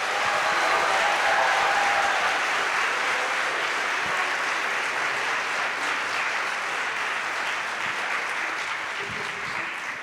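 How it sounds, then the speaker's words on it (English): A school concert audience of families applauds after a 4th and 5th grade performance, a dense steady wash of many clapping hands that carries on for the full length and fades only slightly toward the end. "Can we give them another round of applause,"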